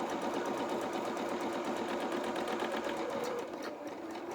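A sewing machine runs a zigzag stitch along the edge of small felt doll bloomers, a close, steady rapid whirring with even pulsing that continues unbroken and eases slightly near the end.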